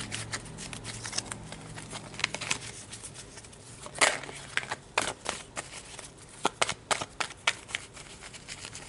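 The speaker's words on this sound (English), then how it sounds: "Let's pull some tarot, see what's up." Tarot cards being shuffled by hand up close, with a run of crisp riffling rustles and sharp card snaps at an uneven rhythm, growing busier toward the end, with no talking.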